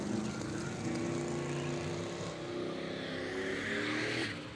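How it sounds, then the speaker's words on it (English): A turbocharged 1989 Fox Body Mustang drag car at a street-style drag racing event roars loudly and steadily, engine note holding and rising slightly before fading off at the end. "It's going to be Jamie Allen out of Indiana, the 89 Fox Body Mustang, 85 millimeter turbocharger on board the Fox Body there."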